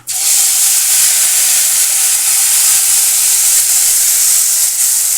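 Ground masala paste drops into a hot pan of tempered cumin and erupts into a loud, sustained hiss and sizzle that holds steady for several seconds, close and alone.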